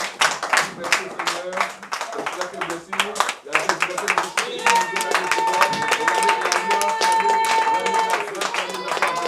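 A church congregation clapping together while acclaiming the Lord at an Easter service, rhythmic hand claps under continuous singing and voices, with a sustained tone entering partway through.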